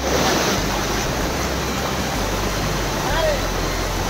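The Brahmani Dei waterfall in Deogarh, full of water, makes a loud, steady broadband roar close by that holds without a break for the whole stretch.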